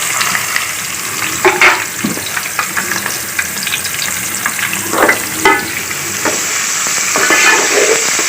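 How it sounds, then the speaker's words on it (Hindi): Whole chillies and turmeric fry in mustard oil for a vegetable dish, a steady close sizzle broken by intermittent spoon stirs and scrapes, with no talking. "और ये साबुत मिर्चें डाली हुई मैंने इसको, और ये हल्दी वगैरह।"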